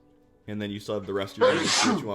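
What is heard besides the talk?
sneeze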